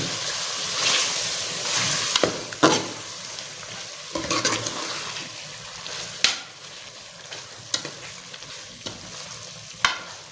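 Mutton korma with turmeric and salt is stirred in a hot cooking pot, with a steady sizzle under scraping strokes of a spoon against the pot and a few sharp clanks, close and without talk.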